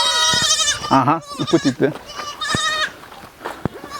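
Goats bleat at a goat house, loud wavering cries repeating close by, overlapping with people talking nearby.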